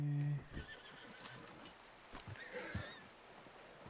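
Horse whinnying in the video game Red Dead Redemption 2, a single short neigh, faint and distant, followed by quiet hoof clip-clops with no talking.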